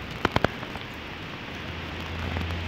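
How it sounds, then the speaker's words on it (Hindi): Rain falling outside a house above a lawn in Esenyurt, Istanbul, a steady soft hiss with a few close, sharp drips near the start and a low hum building toward the end. "बहुत ही अच्छा मौसम है, बारिश हो रही है।"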